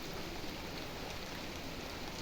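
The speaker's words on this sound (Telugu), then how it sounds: "వర్షం పడుతుంది ఇక్కడ." Steady rain pours outside a home in the evening, producing a faint, continuous broadband hiss with no breaks and no voices over it.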